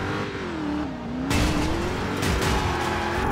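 In the racing video game Driver San Francisco, a car's tires squeal in a sustained burnout as the engine revs, loud and continuous with a rising roar partway through.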